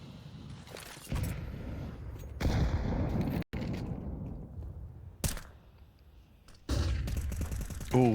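In a Counter-Strike match, AK rifle fire comes in several sharp bursts separated by quieter stretches of in-game ambience.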